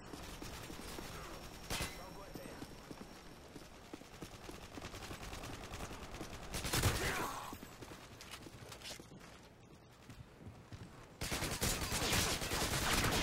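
Rapid automatic submachine gun fire in Modern Warfare 2 rattles in bursts through a busy multiplayer match, with a louder volley near the middle and steady gunfire and footsteps throughout.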